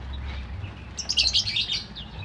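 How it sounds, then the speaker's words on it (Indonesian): Prinia birds in a bird market give off a burst of thin, high chirps that run together over a steady low hum of background noise. "Ini perenjak, ini perenjak tamu."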